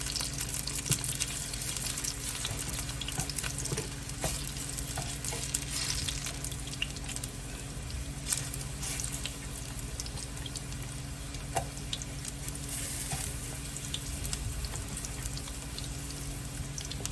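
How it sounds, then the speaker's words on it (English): Plantain slices fry in a pan of hot oil with a steady, dense sizzle and crackle. The sound holds at an even level close by for the whole stretch, with no voices. "Just let them go on fry."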